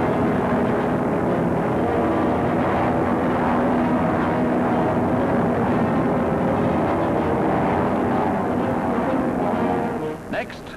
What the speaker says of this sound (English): The C-46 plane enables the men to drop from both sides, 18 at a time, speeding up the operation.